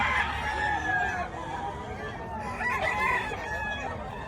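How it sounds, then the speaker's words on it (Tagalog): Chickens clucking and a rooster crowing nearby at a market in Bocaue, amid a noisy outdoor background with faint murmuring voices. "Gaganda ng mga manok na to."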